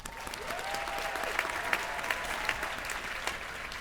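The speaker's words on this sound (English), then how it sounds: "Let's give one more round of applause for Midori Sylvester." Steady applause from a crowd of guests at the Seattle Girls School 20th anniversary luncheon, a dense wash of clapping with a few sharper claps standing out, sustained evenly at moderate distance for the full length.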